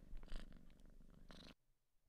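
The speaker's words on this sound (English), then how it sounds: "Kitty. And it purred." A cat in a Puppet Combo horror video game purrs in a loud, rumbling burst, pauses, then purrs again briefly before cutting to near silence.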